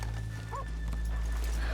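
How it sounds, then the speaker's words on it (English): Horses in the Red Dead Redemption 2 video game, a brief soft whinny and a few hoof clops over a steady low ambient hum, close by and moderately loud with no talking. "Let's leave the horses here off the main drag"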